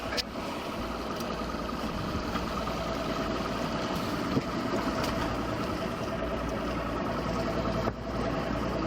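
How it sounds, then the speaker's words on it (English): A boat engine idles with a low, steady rumble that holds evenly throughout, close by, with a couple of faint knocks. "We might as well idle this boat back in."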